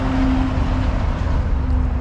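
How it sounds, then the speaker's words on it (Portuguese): A truck passes by a rented country property, a loud low rumbling drone that holds steady with a faint tonal hum over about two seconds, with no talk. "Olha o caminhão passando."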